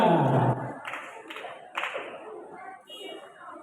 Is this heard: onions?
no